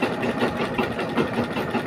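Machine running steadily while a pillowcase is sewn, a continuous close mechanical hum and buzz with a slight rhythmic pulse and no speech over it.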